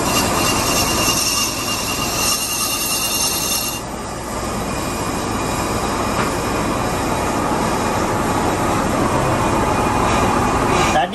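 Lathe skimming the outer surface of a car flywheel, a loud, continuous grinding machine roar with a high metallic whine and steady cutting noise, close up.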